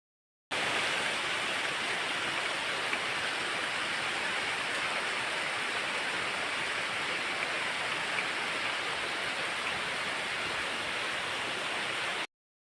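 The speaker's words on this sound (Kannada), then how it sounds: "ತುಂಬ ಲೈಟಾಗಿ ಮಳೆ ಹನಿತಾ ಉಂಟು ನೋಡಿ" Very light rain falls steadily outdoors at a rural home, a soft, even patter that stays faint and unchanging from start to finish with no talk.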